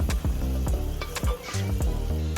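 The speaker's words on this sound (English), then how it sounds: "Now we add capsicum, mix it well" Capsicum and mixed vegetables sizzle steadily in a hot pan, with repeated scraping stirs of a spoon cutting through the continuous frying hiss; no talking.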